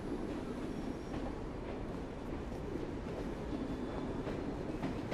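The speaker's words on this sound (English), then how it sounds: "This train doesn't seem to be stopping right away." A train rolls past in the video game Assassin's Creed Syndicate, a steady, loud rumble of rail cars and wheels that fills the whole stretch without a break and with no talking over it.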